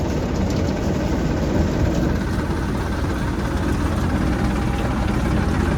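A tractor-driven straw thresher runs steadily outdoors, the tractor at low engine speed while the machine's fans spin hard, giving a loud, continuous broadband roar and rumble with no pauses throughout.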